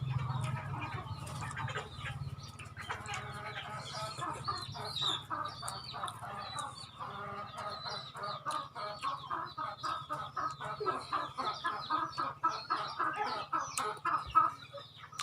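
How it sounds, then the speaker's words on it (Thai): Many chickens cluck and murmur continuously in a busy, rhythmic chatter, with a low steady hum underneath, moderately close. "เสียงไก่"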